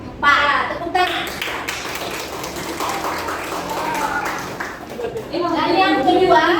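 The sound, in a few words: children clapping hands in a classroom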